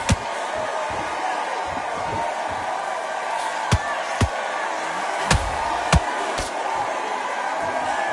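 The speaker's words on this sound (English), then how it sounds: "Crowd here cannot wait. They've been buzzing all day long" Boxing arena crowd at Magna Arena keeps up a steady murmuring buzz, with scattered sharp slaps and thuds popping out above the continuous hum of the audience.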